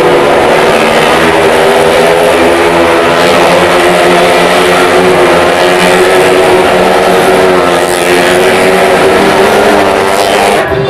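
An old, worn-out motorcycle roars continuously inside a well of death stunt arena at a circus during a desert fair, its engine droning loud and steady with sustained rising and falling pitch and no talk.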